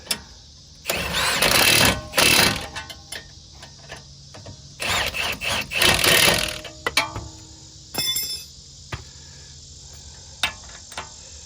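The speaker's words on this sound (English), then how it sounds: "let's get my 18 millimeters still on the impact here. We're just gonna snug them." An impact wrench snugs 18 mm nuts on a car during a CV axle replacement, firing two loud, rattling bursts of a second or two each, followed by brief clicks and short taps close by.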